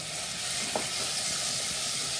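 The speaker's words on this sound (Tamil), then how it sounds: "இந்த வெங்காயம் நல்லா வதங்கிடுது. இப்போ இந்த கொஞ்சம் தக்காளி இதில் சேர்த்துடலாம்." Onions and tomato sauté in a pan, making a steady, soft sizzle with a light hiss throughout and one faint clink of stirring, with no one speaking.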